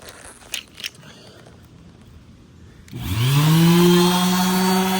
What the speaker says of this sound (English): So we'll get these things sanded down first. Here's my sander.